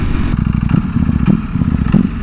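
A Ducati Panigale V4R motorcycle engine with stock exhaust idles and revs up and down with a throaty, pulsing rumble, close and loud.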